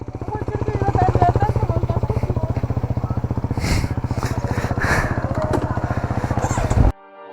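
A motorcycle engine runs steadily and close by, with a continuous rhythmic putter and a few louder rises, cutting off near the end while people talk over it.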